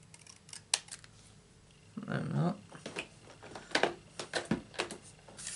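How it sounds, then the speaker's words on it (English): Several crisp snipping cuts from large scissors, near and fairly loud, spaced irregularly with rustling paper and a short burst of handling noise between them. "Some big scissors to do this"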